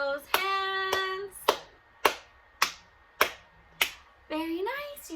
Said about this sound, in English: So can you clap your hands?